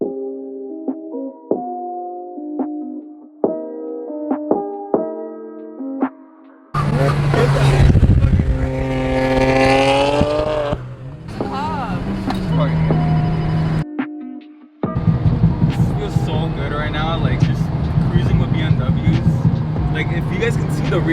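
Several BMW cars, including M3 and M4 models, driving and revving along a city street, loud engine roars and passing bursts close by, with people talking and shouting over the traffic.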